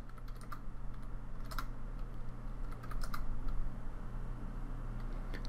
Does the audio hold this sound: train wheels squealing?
no